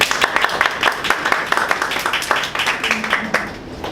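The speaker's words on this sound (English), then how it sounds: "Let's give you a big round of applause." Audience applause at a Toastmasters club evaluation session as the next evaluator is invited up: a steady run of sharp hand claps from a small room crowd, fairly close, with some voice underneath.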